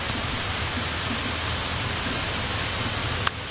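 Rain falling outdoors gives a steady, even hiss at moderate level, uniform throughout, with one brief sharp click near the end and no speech.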